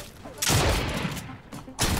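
Gunfire bursts in the Fortnite video game, a loud shot volley arriving halfway through and another near the end, with noisy in-game action continuing between them.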